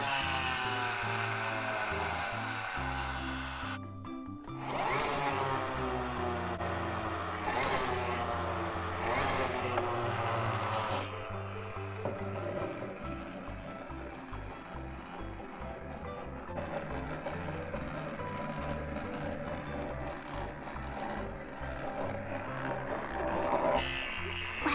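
A small toy motor in a Disney Princess Magical Movers toy whirs in close, buzzy bursts that rise and fall in pitch as it speeds up and winds down, with clicks and plastic handling between runs and a voice talking at times.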